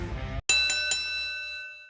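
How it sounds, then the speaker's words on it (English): A single bright ring of a fight bell signalling the first round, sounding after a brief dull thump and leaving a clear sustained metallic tone that slowly fades. "Bang! First bell."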